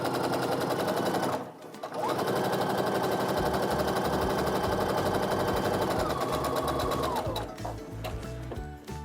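A sewing machine chain-piecing quilt blocks runs in fast, steady bursts of stitching, pausing briefly near the start and then running on with a rapid mechanical rattle, close and loud.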